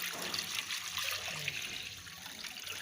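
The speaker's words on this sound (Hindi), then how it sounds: "चलिए ये पानी डालेंगे" Water pours steadily into a cooking pot on a gas cylinder stove, ready for a soup of neck pieces; a continuous, close splashing wash with no talking.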